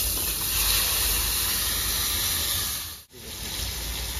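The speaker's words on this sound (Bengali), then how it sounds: "এই তেলে আমি পেঁপেগুলোকে ভেজে নেব" Papaya pieces frying in hot oil left over from frying fish, a loud steady sizzling hiss up close that briefly dips before resuming.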